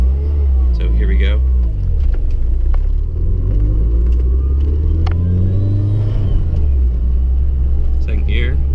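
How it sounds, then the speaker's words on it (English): Twincharged car engine accelerating hard as the turbo spools up and comes fully in, a loud, steady rumble that rises in pitch with a faint whistle on top, under almost constant talk from the driver. "that's the turbo spooling up and coming in all the way"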